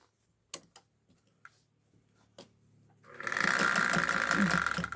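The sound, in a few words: sewing machine stitching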